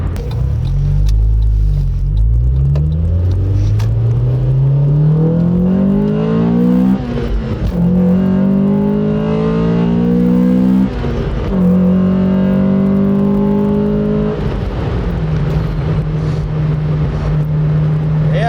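A 2000 Honda Civic Si (EM1) engine revs hard and climbs through several gears, each pull rising in pitch before dropping at the shift, loud and close throughout.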